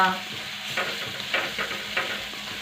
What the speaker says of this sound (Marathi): हे पहा टोमॅटो आणि खोबरा आपल्याला असंच छान प्रकारे मिडियम गॅसवरती परतून घ्यायचं आहे